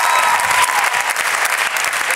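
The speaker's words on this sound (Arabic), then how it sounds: "نحب تصفيق أقوى برشا عليهم أقوى برشا برافو" A television studio audience claps in loud, dense applause that goes on steadily throughout the clip, with faint speech underneath.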